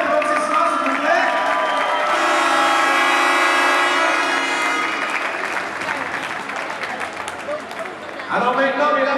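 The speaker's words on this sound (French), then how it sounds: "Une bonne gang d'applaudissements, s'il vous plaît." Crowd in a hockey arena at a season-opening ceremony applauds the regular-season champions. The ovation swells as a broad sustained roar of clapping and cheering, mixed with a horn-like tone, then eases off as an announcer's voice returns.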